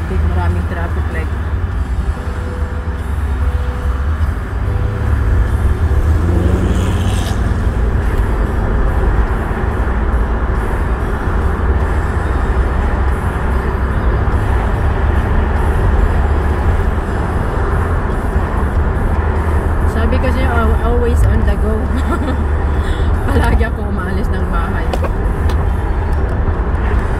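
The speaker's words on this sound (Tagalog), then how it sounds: "busy street, yung sinasabi ko. May traffic, maraming traffic like." Busy street traffic rumbles loud and close without a break, with heavy engine drone and passing vehicles, while a voice talks over it at times.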